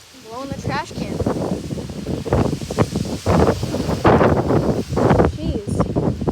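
Strong derecho wind gusting at up to 100+ mph, a loud continuous roar with buffeting bursts against the microphone, swelling and easing throughout as a person talks over it.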